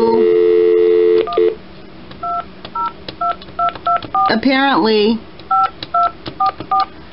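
A telephone keypad dials a senator's office, giving a string of short, evenly spaced dialing beeps after a steady tone, with a warbling sweep in the middle and a few words spoken.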